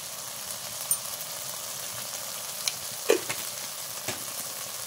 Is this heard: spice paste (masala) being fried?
yes